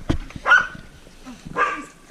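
A pet dog makes short, near yips and barks while being wrestled with playfully indoors, three brief bursts spaced across a couple of seconds.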